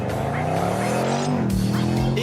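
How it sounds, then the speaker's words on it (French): Range Rover Sport SVR V8 accelerating hard from a standstill, a loud close engine roar whose pitch climbs steadily with a brief dip as it shifts, then rises again. "Son V8 explose littéralement au démarrage."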